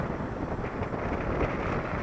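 Strong wind at the beach buffets the microphone in a low, rumbling roar with gusty swells, close and fairly loud, with no talk over it.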